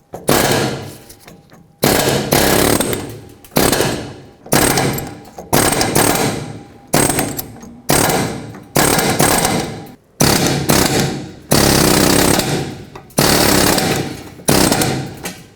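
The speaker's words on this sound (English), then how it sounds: "so I'm going to use an air chisel" A pneumatic air chisel hammers on a lower ball joint of a 2007-14 Chevy Silverado in loud bursts of about a second each, roughly ten rapid rattling runs separated by brief pauses, close up.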